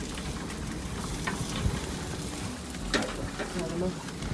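Fresh garlic frying in a stir-fry pan aboard a boat, giving a steady, close sizzle with scattered crackles and pops throughout.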